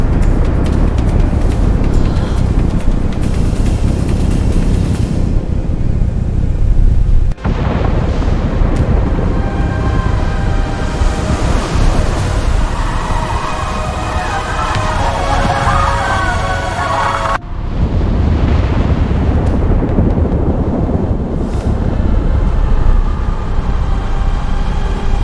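A continuous roaring rumble from a meteor impact explosion in the Baía de Todos os Santos off Salvador, Bahia, loud and sustained with a sharp cut and a renewed surge partway through, like a massive blast and rushing debris wind.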